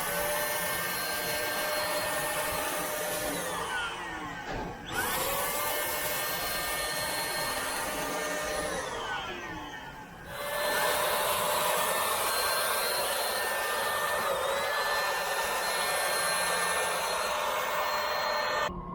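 Spray gun applying Restore coating onto a coil at a 45-degree angle, right to left and top to bottom; a steady close airy hiss runs throughout, briefly dipping twice between passes.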